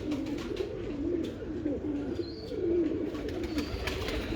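Pigeons coo softly in a low, repeated rolling call, fairly faint and continuous, with no talking.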